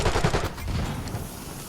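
Rapid gunfire in a video game, a short burst of loud automatic shots that fades into a softer rattle over about two seconds, with no talking.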